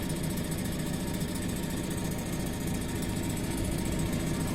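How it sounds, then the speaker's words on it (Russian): A Suzuki 9.9 outboard motor idling on its first start, giving a steady, even buzzing rumble that runs unchanged throughout with no voices. "Моторчик работает на холостых."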